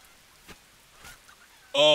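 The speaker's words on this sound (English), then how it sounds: "I hear the chicken." A chicken in the survival game Polylithic gives a short, loud squawk near the end, after a stretch of faint background sound and a couple of soft thuds.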